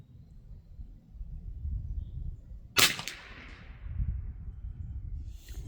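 A Ruger American Long Range Target .22lr rifle fires a single sharp, close crack at an Easter target, standing out against faint outdoor rumble and wind.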